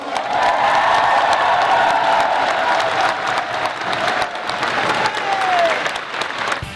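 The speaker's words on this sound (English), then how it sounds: "Let's give the church a round of applause." A large crowd applauds loudly at a church multi-sport athletic competition, sustained dense clapping mixed with some cheering and whoops that carries through the whole stretch.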